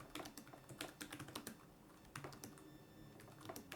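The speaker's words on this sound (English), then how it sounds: "when I'm actually typing on this feels a lot more shallow" Quick, light keystrokes tapping on a thin iPad Pro 11-inch Magic Keyboard in irregular bursts, close and fairly quiet, with a short pause midway.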